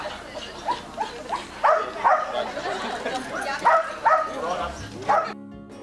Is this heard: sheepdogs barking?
yes